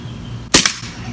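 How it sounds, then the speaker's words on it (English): A Beretta M9A3 CO2 BB pistol with blowback action fires on full auto, producing a single loud, sharp crack with a quick second snap right behind it, standing out against quiet background. "Feels good when it fires. It's got a nice kick to it for a CO2 pistol."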